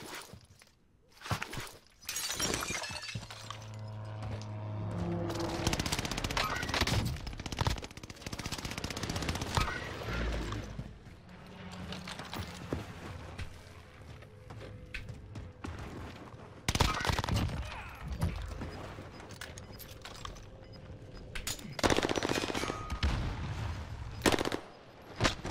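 Rapid bursts of akimbo pistol fire in Warzone, repeated in dense clusters across the clip with scattered impacts and brief lulls, loud and close throughout.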